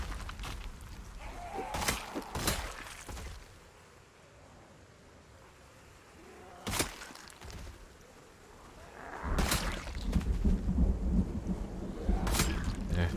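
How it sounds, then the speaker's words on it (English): Storm wind and rain roar in broad washes that swell and fade, with loud gusts buffeting the microphone in bursts and quieter stretches between. "All I can hear is rain and wind."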